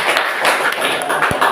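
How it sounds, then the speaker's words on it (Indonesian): A classroom of people claps together, a dense burst of close, continuous applause that lasts the whole moment, with a voice speaking over it. "Iya, tepuk tangan dulu."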